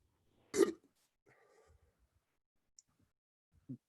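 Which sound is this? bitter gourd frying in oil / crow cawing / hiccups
hiccups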